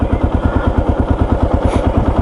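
A Kawasaki KLR 650 motorcycle idles close by, its single-cylinder engine thumping in a steady, even low pulse throughout with a faint mechanical clatter on top.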